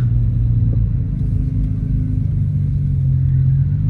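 Low steady engine rumble from inside a fast car picking up speed on the road, loud and continuous with a deep droning tone throughout.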